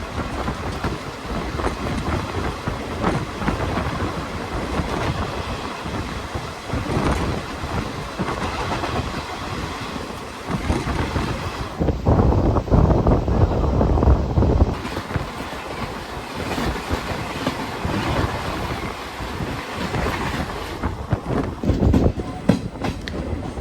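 Ernakulam–KSR Bangalore Intercity Superfast Express hauled by a WAP4 locomotive runs at about 110 km/h on Indian Railways, heard from inside the coach as a loud, continuous rumble with rhythmic clickety-clack of wheels over rail joints.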